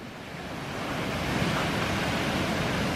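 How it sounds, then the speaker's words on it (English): Waves breaking on the shore of Lake Superior in Ontario, Canada make a continuous broadband roar that swells in the first second and then holds steady, with wind noise mixed in and no voices. "These are the biggest waves I've seen on Superior so far."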